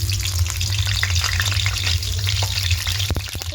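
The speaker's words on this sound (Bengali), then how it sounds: "টমেটো দিয়ে দেবো, হালকা একটু ভেজে নেব এইভাবে" Onion and tomato chunks fry steadily in mustard oil, a dense, continuous near sizzle with occasional sharp crackles and brief stirring clicks near the end, no voices.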